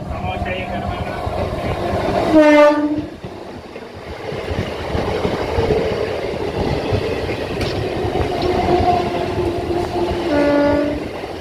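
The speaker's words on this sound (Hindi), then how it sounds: "इसी के साथ ट्रेन सुल्तानपुर रेलवे स्टेशन" Indore–Patna express train arriving at Sultanpur railway station, with a loud horn blast near the start and again near the end over steady rolling rumble and clatter of the carriages.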